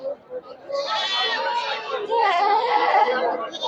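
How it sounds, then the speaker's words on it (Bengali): Goats bleat at a busy livestock market, several wavering, cry-like calls close by over a murmur of crowd chatter. "কি সুন্দর সুন্দর ছাগল ঘুরেছে এগুলো সব ছাগলগুলো বিক্রি করা হবে"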